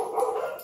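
Other dogs barking at a distance, one brief muffled bark or whimper, fairly faint and alone.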